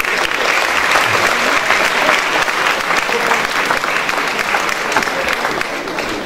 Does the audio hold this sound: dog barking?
no